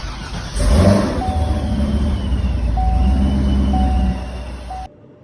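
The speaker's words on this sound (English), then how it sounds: "I'm gonna start it off with a little bit of cold start action for you." A C6 Corvette fitted with Speed Engineering headers and Corsa mufflers cold-starts with a loud crank and bark, then settles into a steady, rumbling high idle for several seconds before cutting off abruptly.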